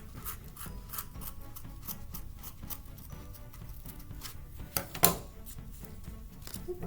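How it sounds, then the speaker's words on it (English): Scissors trimming the loose strands of a yarn pom-pom for a cat wand toy, heard as a steady run of soft, close snipping and rubbing with one sharper cut near the end and no talking. "And now just give it a nice little trim."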